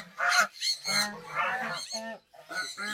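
Geese in their enclosure give a quick run of close, nasal honks, several calls in a row with short gaps.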